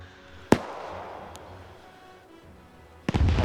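Gunfire in a World War II video game: a single sharp report, then a long fading tail of rumble, and a second burst of shots near the end, loud and close.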